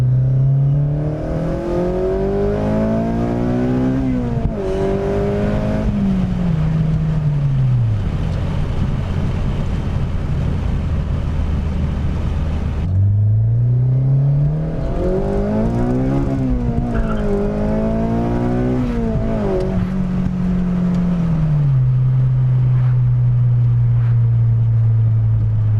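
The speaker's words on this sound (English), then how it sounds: "Maybe a little second gear action for you guys." An 8th generation Honda Civic Si revs hard in second gear on a backroad, engine pitch rising and falling in long sweeps as the throttle opens and lifts, loud and close with no talk.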